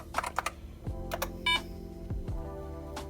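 Keys clacking on a Franklin 2100 computer keyboard under repair, a few quick separate presses with short pauses and a brief electronic tone partway through, close and fairly quiet, no talk.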